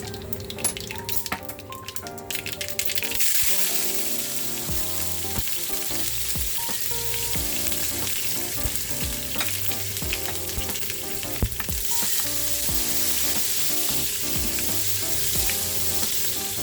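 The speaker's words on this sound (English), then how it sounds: "Using the same pan, I'm adding 1/4 teaspoon of cumin, whole cumin, 1/4 teaspoon of mustard seed." Whole cumin and mustard seeds fry in hot oil in a pan for a Guyanese fish curry, making a continuous close sizzle with fine crackles that swells louder after a few seconds and carries on with no talk.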